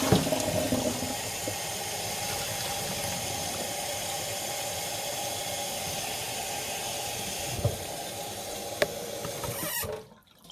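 Shetland yarn being rinsed under tap water in a sink, a steady loud rush of flowing water with small splashes that shuts off abruptly at the end.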